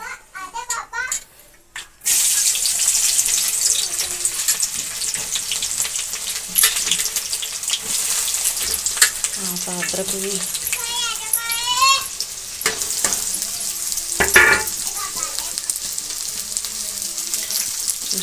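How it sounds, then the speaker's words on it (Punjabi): Loud, steady sizzling of a garlic and onion tempering frying in hot oil, with a brief quieter start and someone talking over the crackle. "ਹੁਣ ਮੈਂ ਲੱਗੀ ਤੜਕਾ ਲਾਉਣ"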